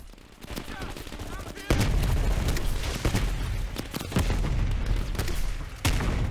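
Dense, loud gunfire and heavy booming blasts from a grenade launcher fill a Call of Duty Black Ops Cold War campaign battle, with repeated sharp impacts layered over constant combat noise.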